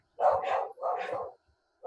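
During an online video call, a dog barks in a quick sequence of loud, close woofs separated by short pauses, with no talking in between.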